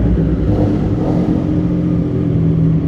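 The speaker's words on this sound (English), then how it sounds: "Oh my god, my bike sounds crazy inside this" A motorcycle engine idles and revs with a steady, dense rumble inside a small underground passage, the sound continuous and close with a reverberant, boomy quality.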